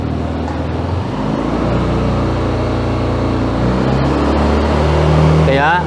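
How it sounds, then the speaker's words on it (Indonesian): Yamaha Aerox scooter engine revved up to around 4000-5000 RPM during a battery charging check, a loud steady close-up drone that climbs in pitch, with a voice speaking over it. "Sekarang coba kita gas sampai RPM-nya di 4000 atau 5000 ya."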